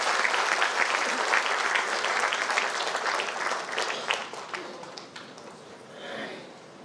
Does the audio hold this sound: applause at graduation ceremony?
yes